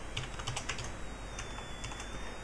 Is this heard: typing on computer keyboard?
yes